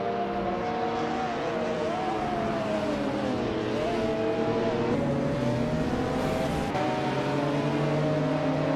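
Race cars in a racing video game roar continuously at close range, engines droning and shifting pitch as they jostle for position, with occasional tire squeal over a steady layered mix of motors.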